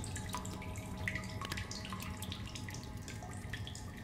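Water running and splashing steadily as it is collected in the sci-fi survival game The Solus Project, a continuous faucet-like trickle with small drips, close and moderately loud, with no talk.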